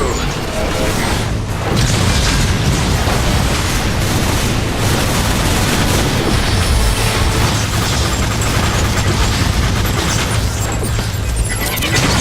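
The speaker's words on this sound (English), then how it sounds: "Decepticons are firing grenades!" Grenade blasts and combat fire in the Transformers: War for Cybertron video game, a dense, continuous barrage of booms and crashes under a loud battle soundtrack with no clear breaks.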